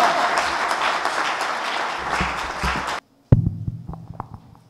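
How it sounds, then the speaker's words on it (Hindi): Loud audience applause at a religious gathering fills the first three seconds as dense, steady clapping, then cuts off abruptly and returns as a few sharp, scattered claps and thumps. "जोरदार तालियां, जोरदार।"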